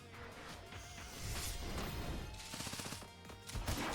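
Gunshot effects from the digital card game Duelists of EUden, a dense burst of sharp, loud firing sounds layered over busy game music and effects, with rapid repeated cracks toward the end.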